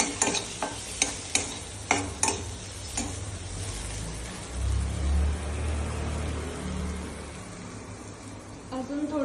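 Kashmiri red chili powder and homemade red chili powder being stirred in a frying pan for paneer bhurji, with a run of sharp spoon scrapes and taps over a soft low sizzle, close and moderately loud.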